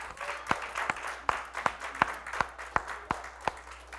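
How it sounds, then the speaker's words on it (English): A church congregation claps hands together in a steady rhythm, about two or three claps per second, at moderate distance over a quiet room. "Give the Lord a hand clap."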